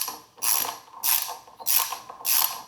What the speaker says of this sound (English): Now go ahead and put our nut on the bottom side back on and tighten it up